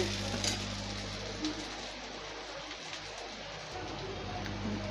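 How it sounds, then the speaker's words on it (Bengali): Salted hilsa fish frying in a pan, a steady close sizzle with occasional stirring scrapes and a low constant hum underneath, no talking. "মাছগুলো খুব সুন্দর ভাজা হয়ে আসছে।"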